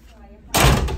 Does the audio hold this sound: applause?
no